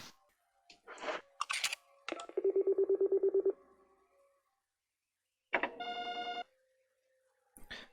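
Keypad beeps from a security system passcode device in the Resident Evil HD video game: a quick run of short electronic tones, a pause, then a longer sustained chime-like tone, all clear and close.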